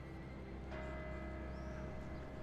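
A church bell in Venice strikes once, its ringing tone lingering and fading over a steady background hum, moderately distant, with no voices.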